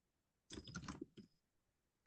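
A short burst of computer keyboard typing, a quick run of clicky keystrokes followed by a couple of isolated taps, faint and close in a quiet room.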